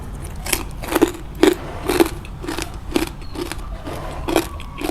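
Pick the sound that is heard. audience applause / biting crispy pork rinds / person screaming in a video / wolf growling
biting crispy pork rinds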